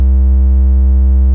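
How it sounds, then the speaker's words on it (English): A steady, loud triangle-wave synthesizer tone holds at one low pitch with no change, alone and unbroken for its whole short length. "Here's the triangle wave."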